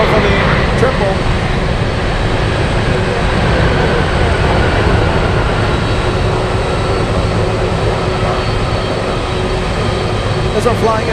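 A Cargolux cargo plane moves at Anchorage airport, its jet engines giving off a loud, continuous broadband roar that holds steady throughout.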